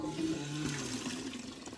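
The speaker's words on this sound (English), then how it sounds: "You see, it's spring water right here." Natural spring water drawn from deep in the ground runs in a soft, continuous gurgling stream, faint and alone.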